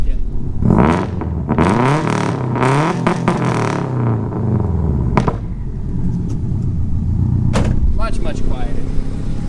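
Subaru WRX fitted with new dual resonators revving several times in quick rises and falls, a fairly loud, close engine note, then idling with a few clicks and thumps while people talk over it.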